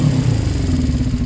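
Suzuki GS500 motorcycle engine held at full throttle, a loud, steady mid-pitched roar with a rough, throbbing low end that stays high and sustained throughout.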